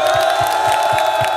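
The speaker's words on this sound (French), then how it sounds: "Applaudissez pour le Sénégal." Concert crowd in Dakar cheering and whooping for Senegal, a dense sustained roar of many voices with rhythmic pulses that could be clapping or chanting, loud throughout.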